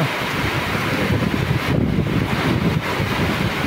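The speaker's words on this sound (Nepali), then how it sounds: "आज त हावा चाहिँ खतरा लागिदिरा यार" Strong, steady wind roars across the microphone for the whole stretch, a loud broadband rush with gusty buffeting and no voices.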